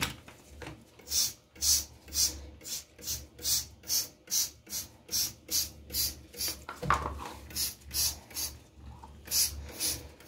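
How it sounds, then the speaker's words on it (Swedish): Rhythmic brisk scrubbing of a bathroom drain with chlorine cleaner, about twenty even back-and-forth brush strokes, close and fairly quiet, with a brief irregular pause midway. "Jag putsar med en klorin."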